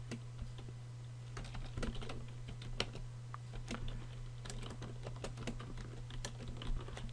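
Steady typing on a computer keyboard while editing a web calendar title, rapid uneven key clicks close and quiet over a constant low electrical hum, no talking.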